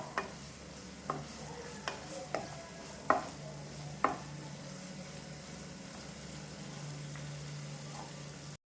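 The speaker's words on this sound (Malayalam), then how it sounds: "വീണ്ടും ഇങ്ങനെ മിക്സ് ആക്കി കൊടുക്കുക. ഇതന്നെ നമ്മൾ റിപ്പീറ്റ്ലി ചെയ്തുകൊണ്ടിരിക്കാം." A utensil stirs chicken filling in a pan, making a series of scraping taps roughly once a second over a soft steady sizzle, fading out after a few seconds; no speech.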